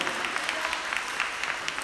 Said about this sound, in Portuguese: Dê um aplauso bem forte ao Messias